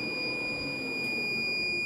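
An overload alarm sounds from a 2 kW Life3 inverter pushed to about 2000 watts, a continuous shrill electronic tone held close and steady over a low background hum.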